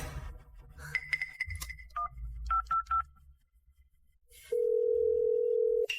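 A telephone call being placed: a run of short keypad dialing beeps, then a steady, loud ringing tone held for about a second and a half, with no voices.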